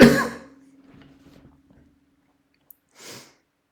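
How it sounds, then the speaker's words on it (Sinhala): A teacher gives one sharp, loud cough during a Grade 11 lesson, then faint breathing and small throat sounds fade into near silence before a brief soft exhale. "සෝරි ළමයි මේ කැස්ස තාම හොඳ නැහැ"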